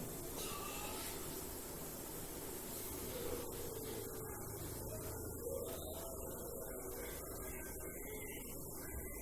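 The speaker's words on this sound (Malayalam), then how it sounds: "അതുപോലെ മറ്റേ വെള്ളം നന്നായിട്ട് തിളച്ചിട്ടുണ്ട്" Water boiling in a pot for lemon pickle, a faint, steady hiss and low bubbling rumble that continues unbroken throughout, with no voices.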